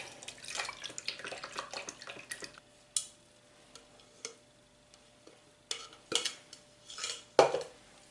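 Kougelhopf dough with added yeast being mixed in a bowl, producing scattered clinks, knocks and wet scraping sounds, busy at first, then sparse, irregular taps, close and moderately loud.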